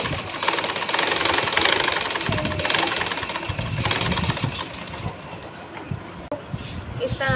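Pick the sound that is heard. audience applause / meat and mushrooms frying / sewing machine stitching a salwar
sewing machine stitching a salwar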